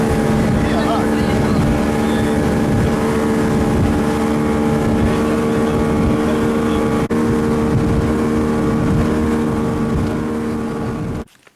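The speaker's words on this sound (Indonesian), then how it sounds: "rombongan melanjutkan perjalanan dengan menggunakan speedboat untuk menuju Kecamatan" A speedboat carries a group across open water toward Maratua, its loud, steady engine drone and hull noise continuing unbroken at close range with wind buffeting, then cutting off abruptly at the end.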